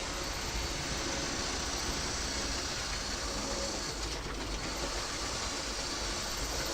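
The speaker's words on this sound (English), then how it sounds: "Right, Mark, is the noise of the trains okay?" A steady, continuous rumble and hiss of a train rolling past nearby, loud and even throughout with no voices.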